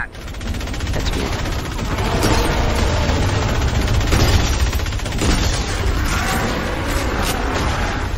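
Continuous loud automatic gunfire in a zombie-style shooter video game, a dense rapid fusillade that runs throughout with occasional booms layered in.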